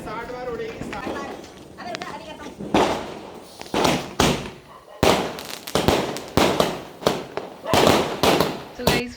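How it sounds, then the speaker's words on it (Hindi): A 60-shot Diwali fireworks cake fires a rapid, uneven series of loud bangs and thuds in a residential street, the shots growing denser toward the end, while people talk and call out over them. "ये देखिए 60 शॉट्स जाने वाले हैं हवा में।"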